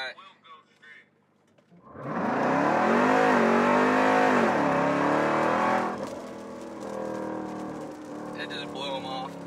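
A supercharged Jeep Trackhawk on a track launches hard with a loud, rising engine roar and supercharger whine, dips briefly on a shift, then pulls again before easing off; voices talk faintly before the run.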